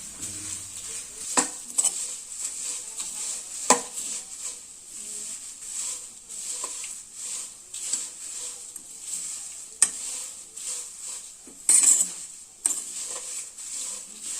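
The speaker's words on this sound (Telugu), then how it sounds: "అటుకులు యాడ్ చేసుకొని కలుపుతూ ఉండండి" Steady soft sizzling in a pan as flattened rice is stirred, with occasional sharp taps of a spoon against the pan.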